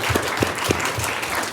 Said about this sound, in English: join me in a round of applause for all of our speakers.